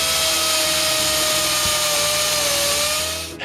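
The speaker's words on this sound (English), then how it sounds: "With it firmly screwed in place, I use a carving disc and remove most of what I want to remove." A power carving disc grinds wood from a carved table leg screwed to a piece of scrap, giving a steady high whine with a rough, chattering bite underneath, close and loud, alone for a few seconds until it cuts off.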